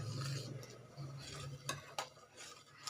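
A spoon stirs carrot custard kheer in a pan over a low flame, with soft scraping and a few light clinks against the metal, close and fairly quiet.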